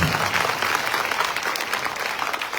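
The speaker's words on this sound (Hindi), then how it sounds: "इनके लिए भी जोरदार तालियां" Loud, continuous crowd applause at a religious mahayagya gathering honours the sound technician, dense clapping close by that holds steady through the brief stretch.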